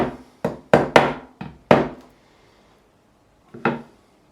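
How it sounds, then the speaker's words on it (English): A hammer gently taps frets into the neck of a 1976 Fender Stratocaster during a refret, giving about six sharp, woody knocks close up in an uneven rhythm, then a pause and one final double tap. "I'll take my hammer now, here we go. Just gently tap in."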